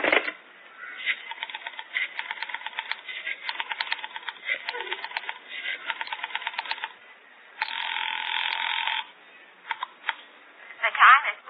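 Telephone dialing in a live staged radio play, heard as a run of rhythmic clicking dial pulses in bursts across most of the stretch, followed by a steady tone and a brief higher chirp near the end.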